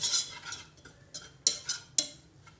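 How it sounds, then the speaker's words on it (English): Metal whisk clinking and scraping against a pan while butter, flour and milk are stirred together for a mac and cheese sauce, several sharp close taps in an uneven rhythm with soft stirring between. "I'm gonna whisk it"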